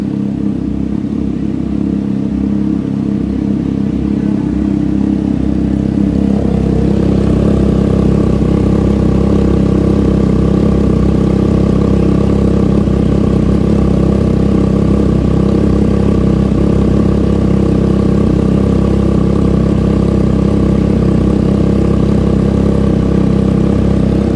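A Vespa GTV 300 S or Triumph Trident 660 motorcycle exhaust at cold start, a loud steady idle rumble close by that shifts to a smoother, slightly higher drone partway through and holds for over twenty seconds.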